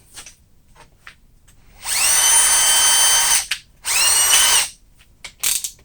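A power drill whirs up loudly in two sustained bursts, drilling extruded aluminum for a 5/16-18 tap, with short quiet gaps and a brief third burst at the end, close by.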